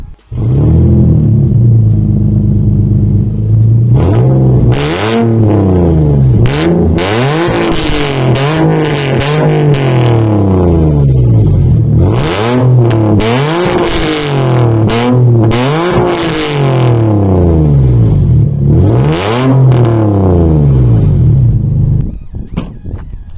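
An Infiniti G37 sedan with Vibrant resonators and an exhaust leak from scraping revs repeatedly, each blip rising to a loud raspy peak and dropping back to a rumbling idle, recorded up close.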